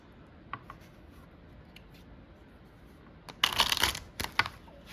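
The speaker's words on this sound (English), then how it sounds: "So again, let me give these a good shuffle." Tarot cards being shuffled: quiet rustling at first, then a brisk burst of riffling and snapping card edges near the end, close and fairly soft, with no talk.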